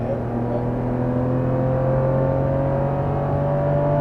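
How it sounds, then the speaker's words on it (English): The 2JZ six-cylinder engine of a Lexus GS300 drones steadily from inside the cabin, a smooth, loud hum climbing gently in pitch as the car pulls through the revs. "it pulls through the rev range really well, and it shifts pretty quick actually"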